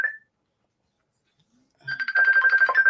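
A phone rings with an incoming call: after a short tone and a pause, a steady, rhythmic electronic ringtone pulses loudly and close for the last second of the clip.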